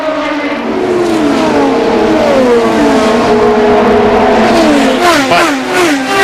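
IndyCar race cars at Phoenix in the 2004 Copper World Indy 200 scream past, engine notes layered and sweeping down in pitch as several lapped cars go by, loud and continuous with no talk.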